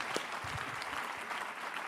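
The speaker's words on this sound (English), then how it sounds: "Give her a round of applause." An audience claps in a dense, steady patter of applause at moderate level, with no speech over it.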